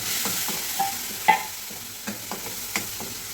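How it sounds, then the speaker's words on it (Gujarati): Chopped tomatoes drop into a sizzling pan for a dried pea and potato curry and are stirred with a spoon, a steady fry hiss broken by several sharp scrapes and knocks against the pan, close and clear. "હવે આપણે ટામેટા છે એ ઉમેરી દેશી."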